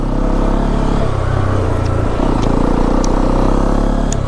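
A motorcycle with dual-channel ABS riding off-road on a trail up Mandalpatti peak in Coorg, its engine a loud, continuous close rumble with uneven throttle swells and occasional clatter from the rough ground.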